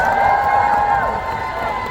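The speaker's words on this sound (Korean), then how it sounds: "다시 한번 큰 박수를 부탁드립니다" A crowd at a fan talk event breaks into applause. It sounds as a steady, dense wash of clapping and cheering under sustained tonal hum or music, holding at an even level throughout.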